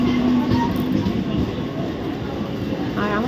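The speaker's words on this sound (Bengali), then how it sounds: "আর এই ট্রেনটা কিন্তু চলে যাচ্ছে শিয়ালদার দিকে" A train heading toward Sealdah rumbles past nearby with a steady rolling clatter, and a voice speaks over it.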